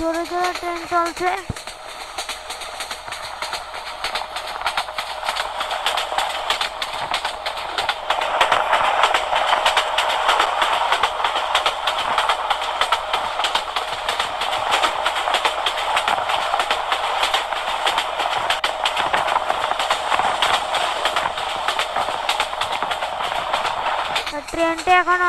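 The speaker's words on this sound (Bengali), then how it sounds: "ট্রেনটি এখন অনেক স্পিডে চলছে এখনো।" Subarna Express train speeding along in a Bangladesh train simulator game, with a continuous loud rolling roar and light rhythmic clatter throughout and a brief horn-like tone at the start and end.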